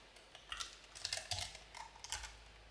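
Keys tapped on a computer keyboard while entering a web address, a quiet, uneven run of light clicks in short bursts, close by and faint, with no voices.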